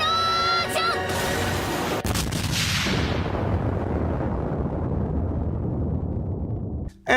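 Megumin's explosion spell in the video game Worlds of Myth: a massive, sustained roaring blast that fills the whole range, rumbling on for several seconds and slowly thinning before cutting off, over faint music at the start.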